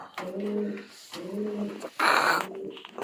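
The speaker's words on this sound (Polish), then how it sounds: "Tu ma kilka, kilka gołębi z wystaw też, tych staropolskich." Old Polish show pigeons coo nearby in three soft, rolling phrases, each a low throaty warble, with a brief rustle of wings or movement between the last two.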